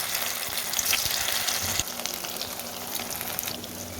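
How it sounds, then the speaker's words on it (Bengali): Pieces of chitol fish muithya frying in hot oil in a kadai: a steady, dense close sizzle with crackling spatter throughout, slightly louder in the first half, no talking. "এবার আমি পিস করে রাখা মুইঠাগুলো ভাজবো"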